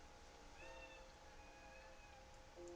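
A cat gives a drawn-out, wavering meow that is faint and steady against a constant background hum, with a shorter second call near the end.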